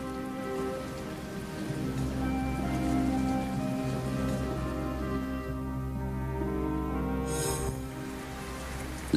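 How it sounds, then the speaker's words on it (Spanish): Steady rain falls in a continuous wash under a sustained musical backing, moderately loud and unbroken, with no voices. "La lluvia cubrió toda la tierra."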